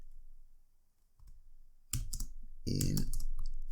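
Typing on a computer keyboard while coding HTML: a few scattered key clicks give way to a denser, louder burst of clattering keystrokes near the close.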